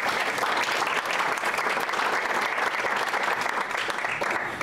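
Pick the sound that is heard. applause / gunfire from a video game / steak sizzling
applause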